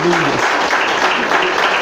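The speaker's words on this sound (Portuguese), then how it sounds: "Quem crê pode aplaudir e glorificar." Church congregation applauding in a dense, steady wash of many hands, loud and close throughout a short burst, with a voice briefly audible at the start.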